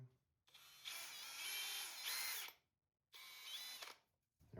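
A power drill bores a hole in scrap wood, in two bursts: a roughly two-second run with a rising whine, a short pause, then a second shorter run, close and loud, before the motor cuts off.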